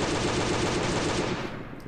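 Automatic gunfire in the mobile survival game Last Day on Earth: Survival, a fast, continuous burst of rapid shots at steady volume, close and alone, tailing off at the end.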